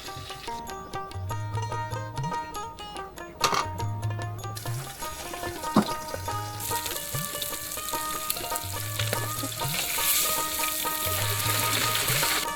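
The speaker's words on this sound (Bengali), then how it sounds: "এগুলো যেটা হালকা ভাজবো, এগুলো আগে উঠাই, তারপরে এগুলো কড়া ভাজ তুলবো" Hilsa fish frying in a pan with a steady, close sizzle running throughout, alongside repeated low tonal hums and occasional clinks.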